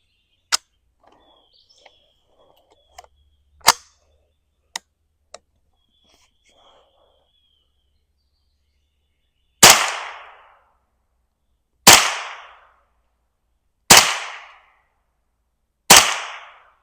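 Four unsuppressed Ruger 10/22 rifle shots with Federal Gold Medal Match ammunition, evenly spaced and sharp with short decays, follow several faint clicks and handling noises.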